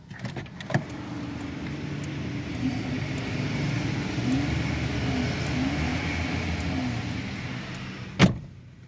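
A Honda City engine idles steadily with a low rumble, a faint rise in revs throughout, and a sharp knock or door thud near the end.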